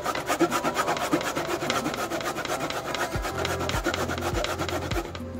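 Cassava being grated by hand on a sharp grater for bilo bilo, a loud, close, rapid rasping scrape in steady back-and-forth strokes with no talk.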